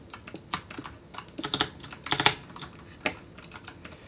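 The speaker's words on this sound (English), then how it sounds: "I'll try to type W to walk forward" Rapid, uneven keyboard typing at a computer during a Minecraft session, clicks clustering into quick bursts of keystrokes and then pausing, close and fairly quiet with no voices.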